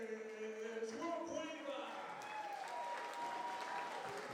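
Faint crowd applause at a boxing event welcomes a fighter into the ring, a steady wash of clapping with a voice and some tonal sounds over it.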